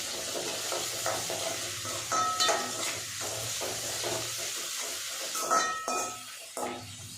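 Dried fish thokku sautéed over a high flame, a continuous low sizzle under repeated scraping and clinking of a spoon against the pan, close and without talk.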